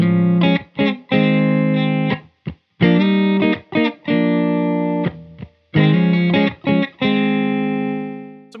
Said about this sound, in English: Siptone amp sounds like this.